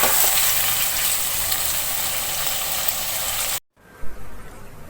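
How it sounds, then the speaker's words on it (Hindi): Mutton liver sizzles steadily in a pan of spice masala, a loud close frying hiss that runs for several seconds, then cuts off abruptly, followed by faint quieter kitchen noise. "अब इसी मसाले के साथ मैं कलेजी को भून लूंगी।"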